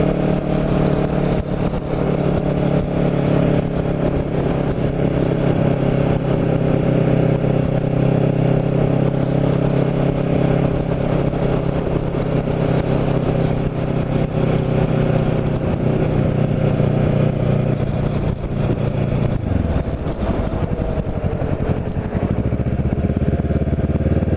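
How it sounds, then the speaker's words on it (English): A motorcycle engine drones steadily at close range, holding a low, throaty hum with slight revving shifts; the pitch dips briefly near the end. "what it's like to be riding, a motorcycle through here."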